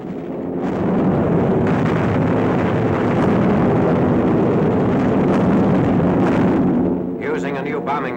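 Wartime bombing of the German industrial city of Pforzheim by RAF bombers: a dense, sustained roar of blasts and rumbling, loud and continuous. It eases off near the end.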